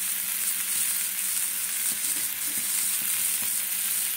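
Onions frying in a pan while they soften for a Bengali dish with poppy seeds, giving a steady, even sizzle close up, with a few soft stirring clicks and no talk.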